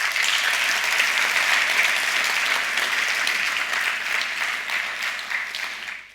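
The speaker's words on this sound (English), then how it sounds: "give a big round of applause for the trainers and the people that were in the room as the support" A conference audience applauds at a closing session, with sustained, dense clapping from a full room that fades slightly at the end.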